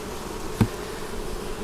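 A low, steady insect drone of honeybees fills an opened hive during a spring colony inspection in Vermont, with a single soft thump partway through; no talking.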